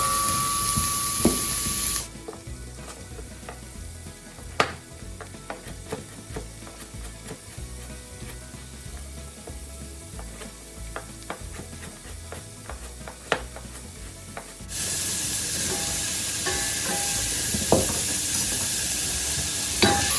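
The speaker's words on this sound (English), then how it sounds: "I'm just going to mix everything together so that it all has a bit of olive oil on it." Carrots and celery sizzling in olive oil in a pot as they are stirred, with a steady frying hiss, scattered clicks and scrapes of the spoon, and louder sizzle at the start and end.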